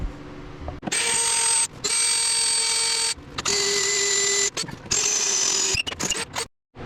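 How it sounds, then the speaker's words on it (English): A drill bores into the metal frame of an Ariens riding mower in several whining bursts separated by short pauses, the pitch steady while cutting, then ends in silence. "Alright, I got all the holes drilled."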